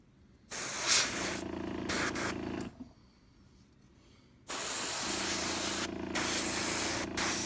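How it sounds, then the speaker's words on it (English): Aerosol spray paint hissing onto a Sunshark bomber model conversion, two long close bursts separated by a quiet pause, steady and broadband with a faint hum beneath. "I blasted a crud ton of paint on this bad boy."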